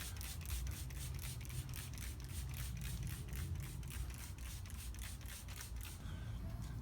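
Rhythmic mechanical creaking and squeaking repeats at a quick, steady pace as a garden sprayer is hand-pumped over and over, close by, while spraying citrus trees.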